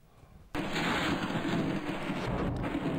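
Rain falls in the Koh-e-Suleman mountain range near Rajanpur, a sudden dense wash of steady hiss that starts abruptly after a quiet moment and then holds at a constant loud level.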